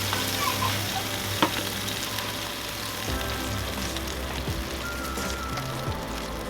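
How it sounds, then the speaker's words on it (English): Country style pork ribs sizzle steadily in their juices on an ASMOKE Essential portable pellet smoker, with a constant crackling fry and a few soft knocks and shifts as they are turned. "I'm giving them a turn there in the juices."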